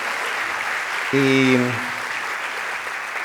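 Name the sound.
audience applause at a conference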